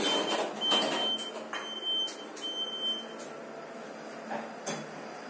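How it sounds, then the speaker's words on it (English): Fujitec lift doors in a residential block sliding shut, with a steady high alarm-like chime tone repeating in short bursts over soft mechanical clinks and rumble, moderately quiet and close. "Doors are closing."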